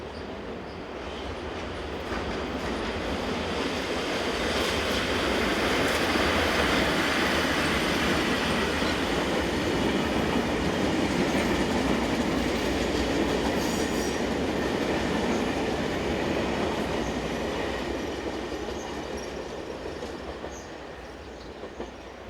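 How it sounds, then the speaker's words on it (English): A BLS passenger train, unit 42501 on the Zweisimmen to Interlaken service in Switzerland, arrives with a steady rolling rumble and wheel noise that swells, holds and then eases, with faint squeals and no talking. "Finally, we see 42501 arriving with the 1738 service from Zweisimmen to Interlaken."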